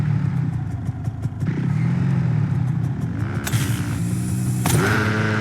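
A brakeless motorcycle in the Fortnite video game revs and whines, its engine tone rising and shifting pitch through the run, close and steady with occasional clattering clicks.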